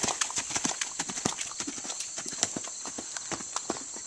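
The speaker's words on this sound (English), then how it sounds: "Keep cantering." Rapid clip-clop of a horse cantering through a bounce gymnastic grid of jumps, hooves landing in a steady quick rhythm, fairly close and clear with no talking.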